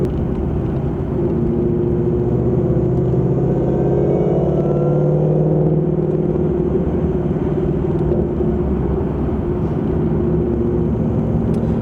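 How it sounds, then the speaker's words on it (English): A loud, deep exhaust rumble from a supercharged 2018 Ford Mustang with a Borla S-Type exhaust drones steadily throughout, swelling slightly mid-way like an engine revving, with no voices over it. "the exhaust on this, as you're probably hearing, it's a Borla S Type"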